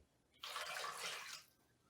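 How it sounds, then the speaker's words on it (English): A cup of water is poured into a mixing bowl of salt and dough ingredients, making one short, close splashing pour that lasts about a second before it stops. "And then lastly, we're going to add in 1 cup of water."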